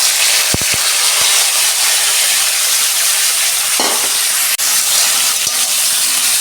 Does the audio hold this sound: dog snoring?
no